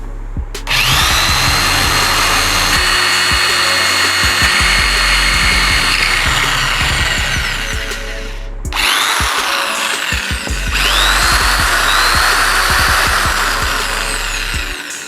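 An electric drill bores into a piece of wood resting on a marble slab, a loud steady whine running about eight seconds, a brief pause, then drilling resumes for several more seconds, close and without speech.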